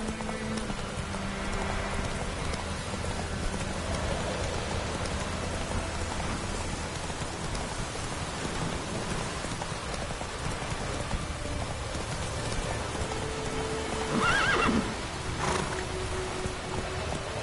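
Roach, the horse in The Witcher 3, runs through steady heavy rain, with hoofbeats blended into the constant patter and a brief brighter burst late in the clip.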